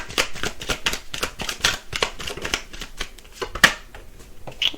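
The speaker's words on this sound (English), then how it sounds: "A couple of more cards, please." Tarot cards being shuffled close up, a continuous run of quick papery riffles and flicks with a few sharper snaps, loud and alone without any talking.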